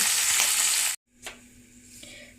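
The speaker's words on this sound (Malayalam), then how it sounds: "ഇപ്പോൾ നമ്മുടെ മീൻ അത്യാവശ്യം ഒന്ന് ഫ്രൈ ആയിട്ടുണ്ട്" Dried stingray fries in hot oil with a loud, bright sizzle that cuts off abruptly, followed by quieter crackling and a faint stir.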